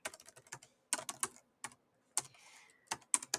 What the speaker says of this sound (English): I'm just typing something in just for the fun of it.